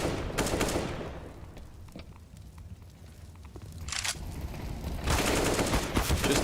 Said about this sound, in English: one and done with the Glock shots